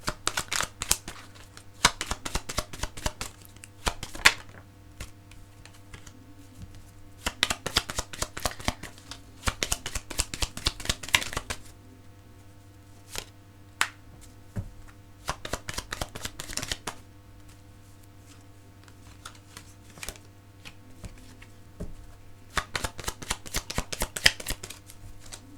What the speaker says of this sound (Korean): 제가 추가로 카드를 조금 더 뽑아보도록 할게요.